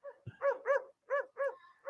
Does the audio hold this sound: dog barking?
yes